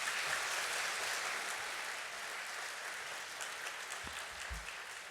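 A church congregation at Sunday worship claps in welcome, with a dense, even wash of applause that holds steady throughout, fairly distant and moderate in level.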